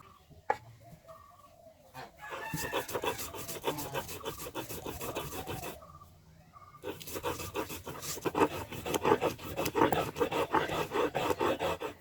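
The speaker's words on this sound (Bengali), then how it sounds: "এরপর বেটে নিব পেঁয়াজ রসুন ও সামান্য পরিমাণ আদা" Onion, garlic and a little ginger are ground into a paste on a stone, a steady rough scraping and rubbing that runs in two long stretches with a short pause between, while a chicken clucks nearby.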